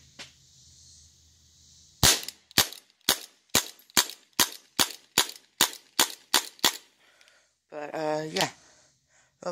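A CO2-powered BB gun fires eleven sharp, close snaps in a quick, even rhythm, followed by a brief voice.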